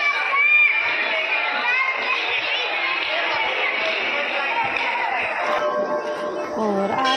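A dense crowd of many worshippers fills a Hindu temple during morning aarti at a Balaji mandir, a steady wash of overlapping voices and children's calls holding at close range throughout.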